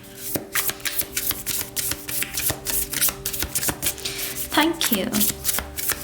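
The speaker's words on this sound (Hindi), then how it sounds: "चलिए शफल कर लेते हैं स्कॉर्पियो वृश्चिक राशि के लिए" Tarot cards are shuffled for a Scorpio reading, a dense run of riffling, flicking card sounds close up, with someone speaking briefly over them.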